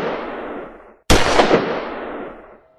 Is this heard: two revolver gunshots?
yes